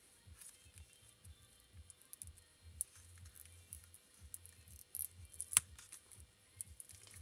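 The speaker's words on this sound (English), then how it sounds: "Let's get a little pair of scissors and just take this piece off." Small scissors cutting a piece of ribbon during paper crafting, quiet rhythmic snips and soft rustles with one sharp click, close and faint in a quiet room.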